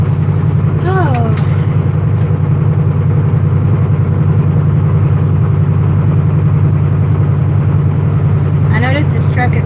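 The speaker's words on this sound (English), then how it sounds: "I noticed this truck is way louder than the Well, last the one." Loud, steady low rumble of a semi truck engine while driving, heard from inside the cab, continuous throughout with brief faint squeaks near the start and end.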